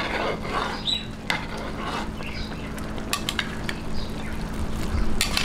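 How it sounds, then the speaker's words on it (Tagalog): Pancit chami being stirred in a frying pan, with a steady broadband sizzle running throughout and scattered close clicks and scrapes of a utensil against the pan. "Haluin lang po natin."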